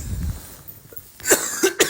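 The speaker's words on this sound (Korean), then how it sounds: "왜 이렇게 기침이 나오지?" A man coughs several times at close range, short harsh bursts coming in quick succession after a quieter stretch with no speech.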